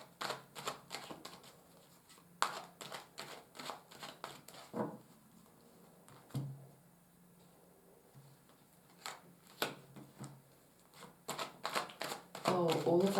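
Tarot cards being shuffled in quick, crisp riffling bursts and soft slides, close and fairly quiet, arriving in uneven clusters with pauses between them.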